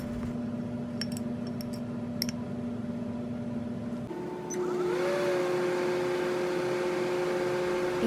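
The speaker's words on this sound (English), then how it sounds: "Melt the chocolate by microwaving in short bursts of 10 to 15 seconds." A microwave oven humming steadily while melting chocolate, a constant electrical drone that shifts pitch and grows slightly louder midway, with a few faint clicks early on.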